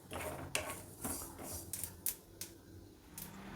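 Sesame seeds frying in a pan over a low flame for curry leaves rice bath, giving quiet, scattered crackles and small pops close by, with occasional sharper ticks of seeds bursting.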